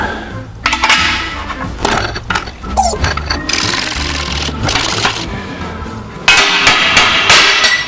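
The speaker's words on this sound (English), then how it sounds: "if you tap on the ear end as it goes down, it'll sometimes release the pressure" A hammer taps on the ear end of a rear lower control arm from a 1964–1972 GM A-body while a bushing is pressed in, giving repeated metallic knocks and clanks over steady mechanical noise, close and loud.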